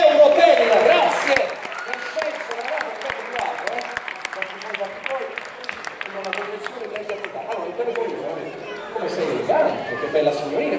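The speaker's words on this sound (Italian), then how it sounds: "Fate un applauso agli amici di Eurotel, grazie!" A studio audience at an Italian television show breaks into loud applause and crowd chatter, strongest at the start, then settling into a steady clapping murmur that swells again near the end.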